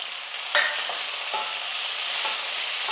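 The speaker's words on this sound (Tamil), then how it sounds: "இதெல்லாம் சேர்ந்து ஒரு ரெண்டு நிமிஷத்துக்கு வந்து நல்லா வதங்கட்டும்" Tomatoes, tamarind and mint sautéing for chutney, a continuous close sizzle of frying broken by a few sharp spoon strokes against the pan, no talking.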